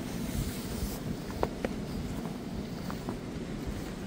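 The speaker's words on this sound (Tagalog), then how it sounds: "At nagiging mahangin na." Steady outdoor winter wind at a Canadian campsite rushing and buffeting a microphone, a low continuous roar with a few faint ticks and knocks.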